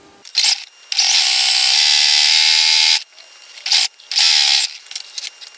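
A sewing machine stitches a fabric collar seam in loud, close bursts: a short whir, a longer two-second run, then two more brief runs separated by pauses.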